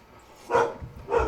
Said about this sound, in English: Dogs barking. Dogs barking.